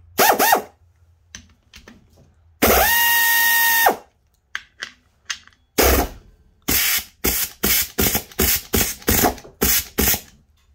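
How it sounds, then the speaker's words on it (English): A Snap-on air ratchet loosening bolts, with a long high whirring run followed by a rapid series of short, loud pneumatic bursts, close by. "Let's see if uh, Air Ratchet does any better."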